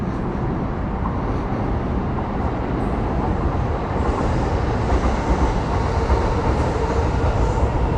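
A train rumbles continuously over elevated tracks in Tokyo's Azabu district, heard from beneath, a dense steady roar with faint clattering, loud and close, no talking.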